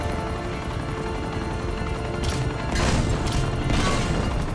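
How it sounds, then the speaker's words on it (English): Helicopter in the Uncharted 2 video game, a loud continuous rotor drone and engine roar filling the scene, with sharp crashing bursts layered on top in the last two seconds. "Damn it! Helicopter!"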